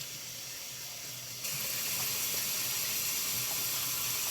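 Broccoli and mung bean sprouts being rinsed under running tap water, a steady broadband wash that jumps louder partway through as the flow increases, with no talking.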